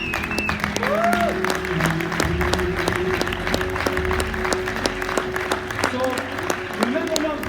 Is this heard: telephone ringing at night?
no